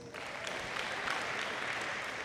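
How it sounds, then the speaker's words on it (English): Audience applause at a high school senior awards ceremony, a faint, steady wash of clapping from a crowd throughout, with no other sounds. "You guys can keep clapping if you want to"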